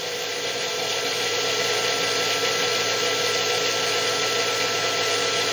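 A 6-pole electric motor runs at 30 volts under load with a steady, loud mechanical whir and a high-pitched whine. It holds constant throughout with no talking.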